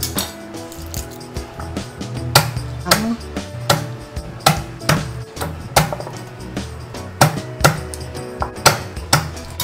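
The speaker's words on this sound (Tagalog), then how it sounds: "Sa bawang din, ganun, pipit-pitin ko lang." Garlic cloves, skins left on, crushed and pounded on a board while preparing pinaksiw, giving a run of sharp, close knocks in an uneven rhythm over a steady low hum, with no voices.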